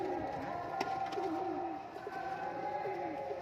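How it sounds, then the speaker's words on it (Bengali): Fancy Lotan pigeons coo softly in low repeated murmurs close by, a faint, steady cooing with a few sharp knocks and a muffled background hum. "পায়রা"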